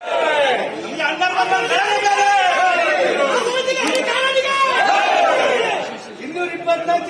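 Crowd of party workers shouting slogans at the Lakshminarasimhaswamy temple as MLA H D Revanna arrives; many loud, overlapping voices cheer and chant continuously, close and energetic.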